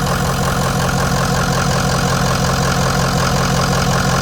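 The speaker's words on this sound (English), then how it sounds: "Pretty good running engine." A 2005 Ford 6.0L Powerstroke turbo diesel engine, sitting unused for a couple of years, runs loud and close with a steady unbroken rumbling drone and no talking.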